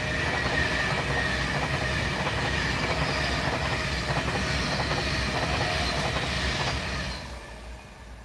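A train passes close by on a British line near Crewe, a loud sustained rumble with rhythmic wheel clatter that eases off toward the end.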